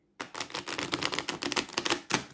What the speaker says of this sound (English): shuffle them overhand like that if you wanted to use it as a reading deck